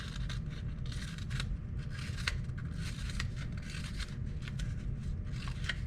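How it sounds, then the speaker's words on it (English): Scissors snip little tabs into paper for a craft hedgehog, a close, quiet run of quick crisp cuts and paper rustling over a low steady background hum. "I'm just going to cut little tabs going around."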